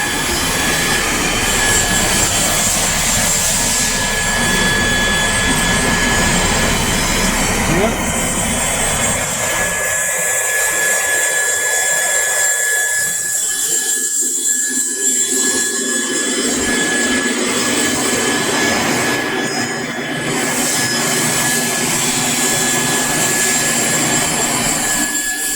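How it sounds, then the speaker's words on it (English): Factory machine satin-finishing a knife blade at Extrema Ratio in Prato, Italy, giving a loud continuous whining grind with steady high tones that thins out briefly midway. "Here we can you can see how we realize our satin finishing of the blade."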